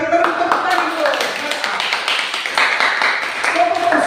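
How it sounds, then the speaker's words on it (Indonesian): Classroom applause from students in a teacher-training lesson, a dense patter of clapping over about four seconds with a voice talking through it. "Kita berikan tepuk tangan dulu."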